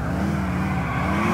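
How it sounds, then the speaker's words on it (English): A car drifting in GTA IV gives a loud, steady engine drone with a sustained tonal whine throughout, and no one speaks. "drifting in this car is, like, just crazy awesome"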